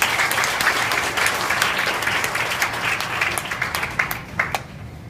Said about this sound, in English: And we deserve your loudest cheers and applauding.